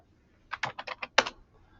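Short burst of keystrokes on a computer keyboard, about six quick close-up taps in a quiet room.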